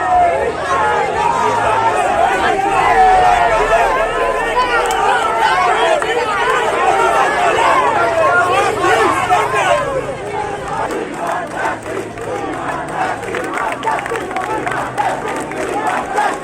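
A large crowd of street protesters, Mohun Bagan and East Bengal football fans joined together, shouts and chants loudly and close by. Many voices overlap in a dense, continuous roar with no pause.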